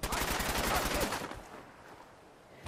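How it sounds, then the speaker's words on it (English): Rapid automatic gunfire from the video game Fallout 4 fires at the player in dense, loud bursts for about a second, then fades into a quieter rumbling tail. "Someone's shooting me."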